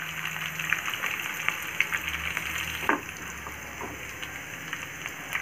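Garlic, green chillies and curry leaves fry in hot oil, giving a soft, continuous sizzle and crackle with occasional louder pops and faint stirring, fairly quiet and without talking.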